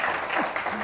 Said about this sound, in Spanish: Un aplauso para los de Buenos Aires